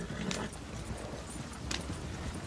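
Horse hooves clip-clop steadily in the Red Dead Redemption 2 video game, a busy, continuous trotting patter that stays fairly close and even in loudness, with no voices.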